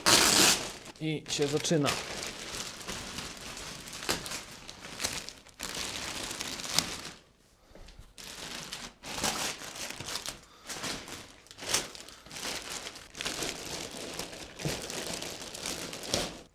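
Plastic protective foil crinkles and rustles as it is pulled off a Bambu Lab H2D 3D printer during unboxing, in repeated bursts close to the mic, with a person talking briefly.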